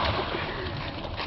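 Water splashing and sloshing against a GMC Yukon while offroading through deep water, a brief, steady rushing wash with faint voices underneath.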